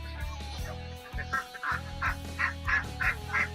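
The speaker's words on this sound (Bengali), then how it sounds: "আর এই যে এখানে বড় হাঁসগুলো, নিচেও কিছু আছে সেগুলো বড় বড়" Ducks on a riverside duck and chicken farm quack in a run of about six nasal calls, evenly spaced over a steady low hum, moderately close.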